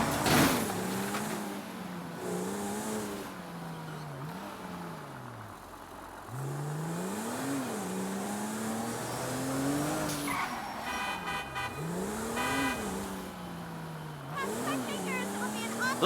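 A car in the GTA 5 video game drives around a city block, its engine revving up and down in repeated waves with gear changes, a brief tire skid and some background game sounds.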